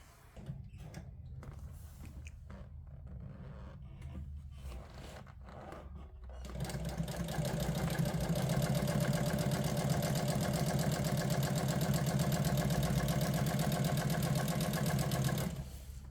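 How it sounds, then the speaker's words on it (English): A sewing machine stitches car seat upholstery. After a few soft handling sounds it starts up with a fast, steady mechanical whirring that runs for about nine seconds before stopping. "Now I'm going to go ahead and sew on that white line."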